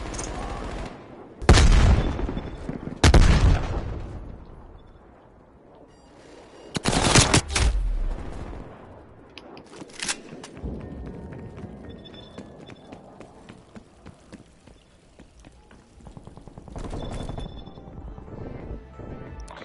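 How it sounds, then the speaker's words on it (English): Enemy sentry turrets in a Call of Duty match fire in loud, dense bursts, several heavy volleys early on and a few more later, set against quieter stretches of scattered in-game shots and clatter. "Multiple enemy sentry turrets active."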